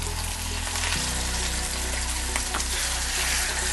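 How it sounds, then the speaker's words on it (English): Food frying in oil, a savory sausage substitute cooking in a pan, with dense steady sizzling and crackling that continues throughout, close and fairly loud, with no talking. "So you can tell by the frying sound."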